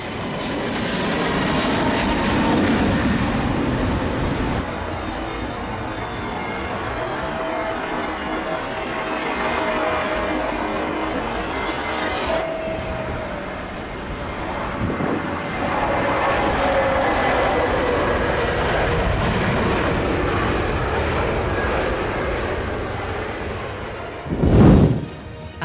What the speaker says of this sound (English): The Turkish Airlines jet lifted off with power and grace, its nose rising confidently as the wheels left the runway.